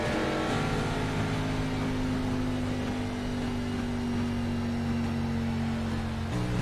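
Race car engine under power in the iRacing sim during an NSRA Grand National Series race at Pocono: a steady, droning roar that holds for about six seconds and then drops away abruptly near the end.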